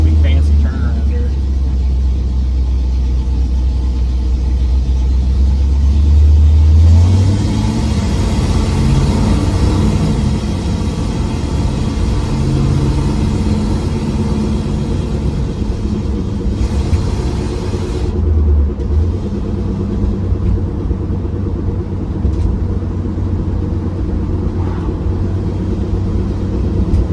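A restored 1968 Pontiac Firebird drives along with a steady low engine rumble and road noise and a faint growl from the differential, while people talk throughout.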